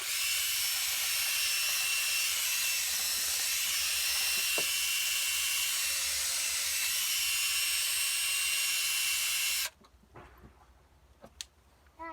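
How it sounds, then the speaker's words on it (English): A power drill fitted with a bit spins at high speed, grinding old silicone or gasket material out of an intake hole on a Buick, Oldsmobile or Pontiac 3.8 3800 V6, a steady loud whine that cuts off near the end, leaving faint clicks. "There's no really easy way to clean this out, so I have a bit on the end of my drill."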